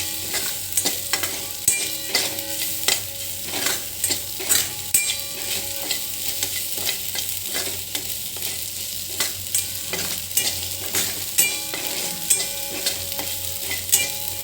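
Coarsely ground peanut powder dry-roasting in a pan for a fenugreek-leaf dish, a spoon scraping and stirring in irregular strokes over a soft, steady sizzle, close and clear with no talking.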